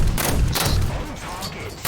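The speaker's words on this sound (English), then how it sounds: "I see you shooting at something." Gunfire in the War Thunder video game, heavy rapid bursts and booming blasts that are loud and dense, with muffled thumps running underneath.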